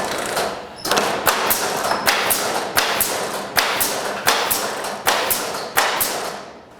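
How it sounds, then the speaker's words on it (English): A JCS 1000 stapling machine firing and feeding staples, sharp regular thumps roughly every half second, loud and close, with no voices. "As soon as I push them, it should automatically fire the first staple."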